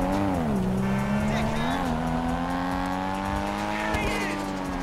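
A car in GTA 5 drives with a steady, rising engine drone and a sustained tire squeal that sweeps up and down in pitch, loud and close throughout.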